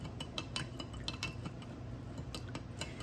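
A small spoon clinks repeatedly against a bowl while ingredients for soft pretzel dough are mixed, producing quick, close, irregular metallic taps with no talk.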